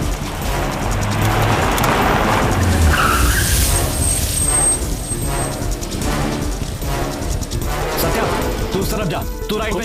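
A car in an action film speeds away with tires skidding and squealing and the engine roaring loudly and continuously, with urgent voices and dramatic background music throughout.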